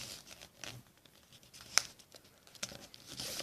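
Sheet of paper being folded in half while making a paper boat, with close, soft crinkling and creasing rustles, a sharp crisp snap near the middle and brighter papery swishes toward the end.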